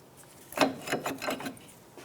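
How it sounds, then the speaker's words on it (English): On a 2001-2007 Ford Escape, a pry bar scrapes and rasps against the front brake caliper in a few short, close bursts before going quiet. "Using a pry bar, go ahead and just work the brake caliper off"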